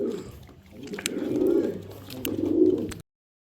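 Pigeons coo in low, rounded, rolling phrases close by, swelling twice in loudness over a bed of faint background noise before the sound cuts out.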